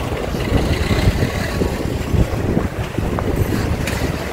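Strong wind after a recent typhoon roars steadily into an outdoor microphone, a continuous loud rumbling buffet with gusty surges and no voices throughout.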